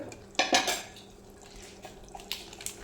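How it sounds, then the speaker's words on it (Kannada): Mutton leg soup ingredients stirred in a pressure cooker pot, a couple of close metallic clanks and scrapes of a spoon against the metal, then quieter taps and stirring. "ಇದ್ರ ನಂತರ ಸ್ವಲ್ಪ ಮಿಕ್ಸ್ ಮಾಡ್ಕೋಬೇಕು."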